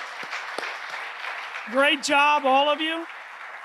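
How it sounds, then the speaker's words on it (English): Applause from the audience at a 2019 Mason athletic hall of fame induction ceremony, a steady clapping wash under an announcer's voice, with a short spoken remark over it. "one more round of applause"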